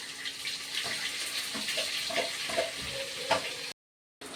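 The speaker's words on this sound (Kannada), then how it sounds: "ಈಗ ಉಳ್ಳಾಗಡ್ಡಿ ಮೆಣಸಿಕಾಯಿ ಎರಡು ಹಾಕಿ ಚಂದ ಫ್ರೈ ಮಾಡ್ಕೊತೀನಿ" Onions and green chillies fry in oil with mustard seeds, making a close, continuous hissing sizzle broken by a few stirring clinks, before a brief cut to silence near the end.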